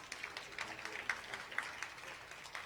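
An audience claps for a former city commissioner at an arts event celebrating Black music, the applause scattered and fairly quiet, heard from some distance with no voice over it.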